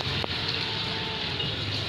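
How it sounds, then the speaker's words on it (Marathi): Heavy rain pours onto a terrace in a steady, unbroken hiss and wash that holds at an even loudness throughout, with no voices. "आता खूप जोरात आलाय पाऊस."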